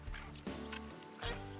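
A duck quacks in short repeated bursts during a waterfowl hunt, with several calls spread across the moment over steady low background noise from the water or boat.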